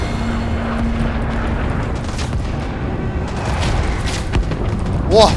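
Artillery shells explode in the shooter game Rising Storm 2, with dull booms and rumbling blasts rolling through a dense, continuous wash of battlefield noise for several seconds.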